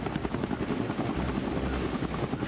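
A helicopter thrums steadily and loudly nearby, its rotor chop pulsing in a continuous rhythm with no talking.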